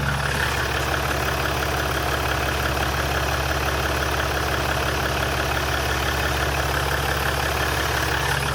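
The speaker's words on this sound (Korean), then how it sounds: "엔진음 바로 들려드릴게요." A 2017 Maserati Levante four-wheel-drive SUV engine idles steadily with a deep, smooth rumble, close and constant throughout.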